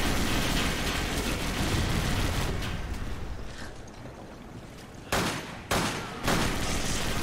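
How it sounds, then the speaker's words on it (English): Gunfire crackles in the Resident Evil 5 video game as a dense rolling fusillade under a game soundtrack, ending with a few sharper bursts. "Tyler, we got fire shots from everywhere"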